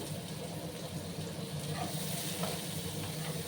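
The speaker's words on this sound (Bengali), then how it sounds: "পেঁয়াজগুলোকে একটু আমি লাল লাল করে ভাজবো।" Chopped onions and slit green chillies fry in a pan with a soft, steady sizzle, quiet and close, with no talking.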